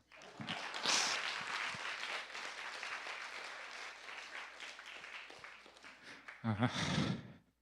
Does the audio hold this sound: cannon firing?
no